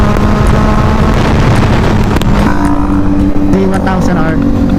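A Kawasaki Z900 motorcycle in sports mode revs hard on an expressway, its engine note rising through heavy rushing wind noise, loud and close, while a rider's voice talks over it.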